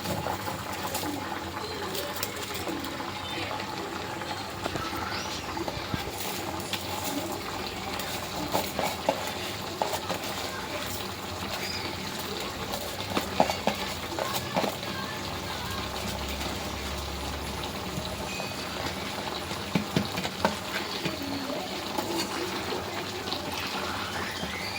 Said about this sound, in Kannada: ಕುದಿ ಬತ್ತೈತೆ ಅಕ್ಕಿ